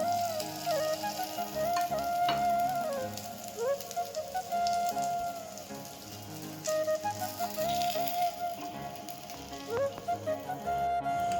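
Paneer tikka sizzles and fries in a pan, a steady crackling hiss that runs throughout at moderate loudness with a few brief tonal squeaks and no one speaking.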